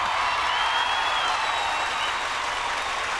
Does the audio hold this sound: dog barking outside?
no